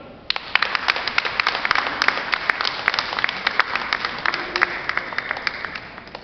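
Crowd applause at a Centre Party election rally in Pärnu ahead of the Estonian parliamentary elections, with sustained, dense clapping from a sizeable audience and sharper individual claps standing out throughout.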